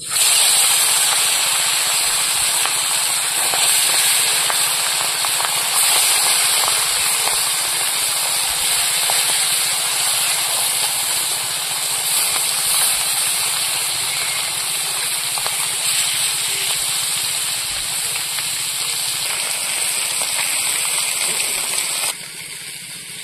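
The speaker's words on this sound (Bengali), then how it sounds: "এবার মাছগুলো ভেজে নেব।" Salted, turmeric-rubbed Japanese puti fish fry in oil in a pan with a loud, continuous close sizzle and hiss that holds steady for over twenty seconds, then drops at the end. No talking.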